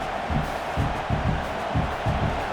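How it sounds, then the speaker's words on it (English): Stadium crowd in EA College Football 26 during a Florida at LSU game, a dense, continuous roar of a large crowd with rhythmic surges, steady and loud throughout. "It's early, but this crowd is fired up. Listen to this noise here."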